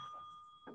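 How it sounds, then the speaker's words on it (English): A ceremonial bell rung at a Salem Leadership Foundation anniversary celebration, giving a steady, sustained ringing tone throughout the short moment, with a soft bump of noise near the end. "Ring the bell for Salem Leadership Foundation's 25th Fancy Week."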